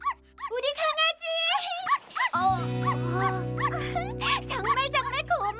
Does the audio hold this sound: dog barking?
yes